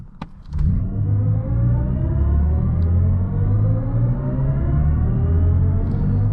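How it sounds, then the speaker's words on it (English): A 2023 BMW i7 xDrive60 electric luxury sedan launching from a stop, heard from the cabin: a sudden surge into a loud, steady low rumble and rising whir as speed builds smoothly and continuously to the end. "we do a little bit of a 0 to 60 pull right now"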